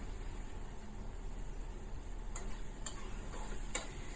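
Shrimp paste, garlic and shallots stir-frying in oil give a steady, soft, close sizzle, with a few light clicks from the utensil scattered near the end.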